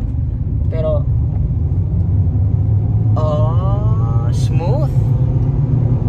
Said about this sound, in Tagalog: subukan natin yung hagod ng sasakyan natin no